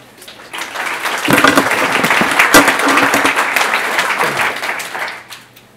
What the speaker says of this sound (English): So can you welcome David Brown?